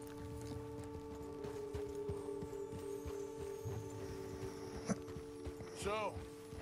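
Horse hooves clip-clop at a walking pace in Red Dead Redemption 2, a steady, moderately close rhythm over a low hum, with talk and a brief whistle-like call near the end.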